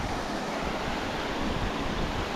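A waterfall on a San Bernardino Mountains creek roars in a steady, dense rush of falling water, close and continuous without a break.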